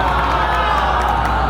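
An audience at a comic convention panel claps and cheers for Vilarinho, a loud, dense burst of crowd noise with whoops throughout this short moment.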